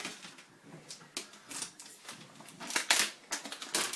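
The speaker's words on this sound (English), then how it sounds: "Get this loud ass plastic off" Plastic protective wrap is torn and crinkled off a 2012 21.5-inch iMac during unboxing. Irregular crackling rustles come in bursts, close and moderately loud, with no talk.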